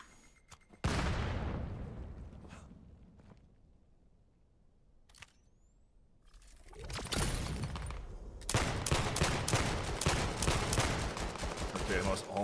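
Gunfire in the VR shooter VAIL during an esports playoff match: a sharp shot, then quiet scattered clicks, before sustained rapid bursts of fire near the end, loud and close.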